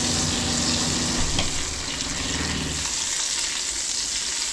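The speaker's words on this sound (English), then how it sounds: "Just searing the fat on the other side now" Bison fat sizzles loudly as it sears in a hot pan, a steady close crackling hiss that continues throughout, its low underlayer dropping partway through.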